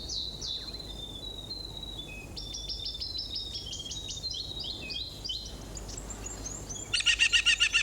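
Birds calling in a dry mountain beech forest in New Zealand's Fiordland: a series of high, thin chirps and whistles over a steady insect hiss, ending in a louder rapid trilling call.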